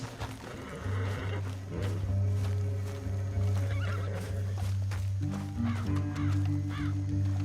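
Horse in the video game Red Dead Redemption 2, a neigh and whinny with nearby hoofbeats, set against sustained low tones from the game's score and a crow cawing faintly in the background.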